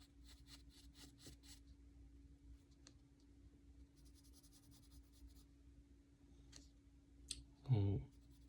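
A mechanical pencil draws on paper with quick scratchy strokes, first a fast rhythmic series and then a longer rub, quiet and close under a low steady hum, ending with a brief louder knock.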